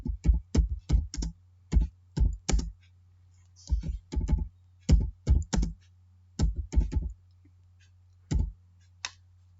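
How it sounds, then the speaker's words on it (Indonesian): Keystrokes on a computer keyboard while entering accounting data, coming in short irregular bursts of clicks with brief pauses, close and clear over a low steady hum. "kita ketik sesuai soal"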